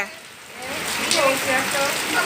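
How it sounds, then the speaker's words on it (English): Heavy rain pouring during tropical storm flooding in Jamaica, a dense hiss of rain on surfaces that swells and stays loud, with a voice faintly audible beneath. "The rain coming down and every breeze."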